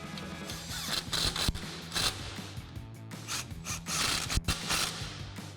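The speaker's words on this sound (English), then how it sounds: "We'll use our 13mm socket on our impact to tighten those back down." An impact wrench with a 13mm socket runs the brake bolts back down on a 2009-2018 RAM 2500 during a brake kit install, loud close bursts of rattling hammering with short gaps between, no talk.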